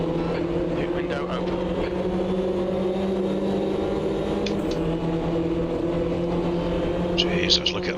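Race cars in a racing game at Hockenheim in 1988 drone steadily as a pack on a wet track, with a constant buzzing engine hum and brief high whines from passing cars, while people talk over it.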